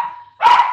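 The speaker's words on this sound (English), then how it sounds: "the dog just starts barking at him" A dog barks once, a loud close bark that ends the clip, after a brief tonal whine or hum.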